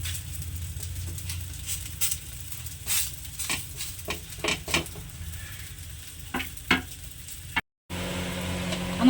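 A chapati cooking in a pan, with soft sizzling and intermittent taps and clinks of utensils against the pan, close and moderately loud, then a brief cut to a quieter background.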